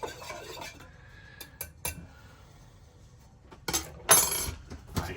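A spoon stirs coffee in a cup, a few light clinks early then a louder burst of clinking against the cup near the end, close and unaccompanied by talk.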